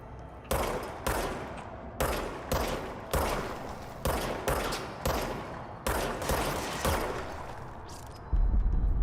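Enemy gunfire in the video game Control: repeated sharp bursts of automatic fire, about a dozen loud volleys at a steady pace over a constant low background rumble, with no talking.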